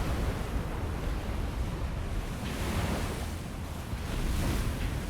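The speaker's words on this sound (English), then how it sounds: "Waves are splashing over the sights." Ocean waves wash and splash over a submarine's sights in the Silent Hunter 4 naval game, a loud continuous roar of surf and wind with no voices.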